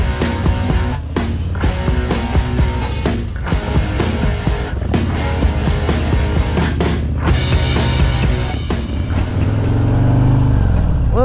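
A motorcycle with linked brakes rides along the road, its engine a loud, steady drone with a constant tone and no pauses for the whole stretch, and no one speaks.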